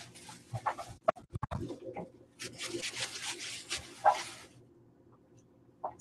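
A door being shut in a home, heard as a few sharp knocks and rubbing, scraping movement over several seconds, fairly close and moderately loud, with no talking.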